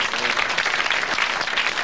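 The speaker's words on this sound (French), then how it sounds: "Vous l'applaudissez très fort." A French radio studio audience applauds loudly and steadily, a thick wash of clapping from many people that holds for the whole moment.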